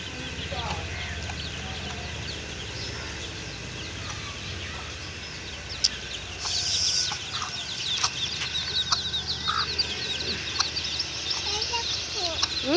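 Chickens cluck and call in an outdoor village yard, with a steady background of farm ambience and occasional sharper bird calls.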